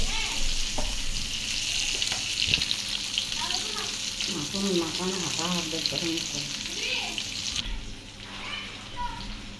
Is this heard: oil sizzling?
yes